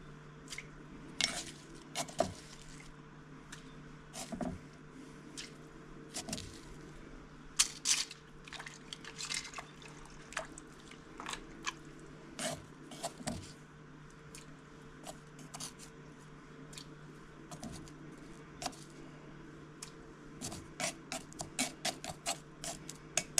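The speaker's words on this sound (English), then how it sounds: "I just pounded the garlic" Garlic pounded in a mortar for a Hmong spicy chicken soup, left broken up rather than mashed: irregular sharp knocks and crunching strikes repeat throughout over a low steady kitchen hum.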